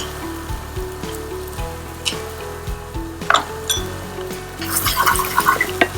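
Chopped onions sauté in oil in a pan: a steady low sizzle with clinks and scrapes of stirring, growing busier and louder toward the end.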